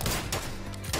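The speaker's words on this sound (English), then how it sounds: "Shot him right in the head" Gunshots in PUBG, a few sharp, punchy bursts spaced across a short moment, close and fairly loud with a low rumble beneath.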